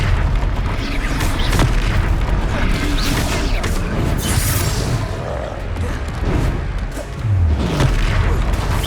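Blasting-spell explosions boom repeatedly in a Hogwarts Legacy battle, heavy thuds and crashing bursts coming in quick succession over a dense, loud fight din.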